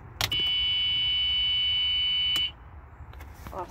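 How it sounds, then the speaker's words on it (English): A high, steady electronic reverse warning buzzer on a 2018 Club Car golf cart sounds for about two seconds, then stops abruptly, leaving quiet rumbling and a few soft clicks. "When put in reverse, it will play a buzzer to let you know."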